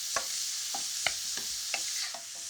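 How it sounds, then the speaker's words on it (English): Zucchini stirred through hot oil in a pan produces a soft, steady sizzle broken by several distinct utensil scrapes and taps at irregular intervals, close and fairly quiet, with no speech. "we'll add the zucchini first. And we'll coat that in the oil."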